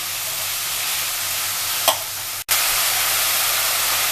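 Crushed garlic frying in a pan, a steady close hiss and sizzle broken by one brief stir and a short dropout.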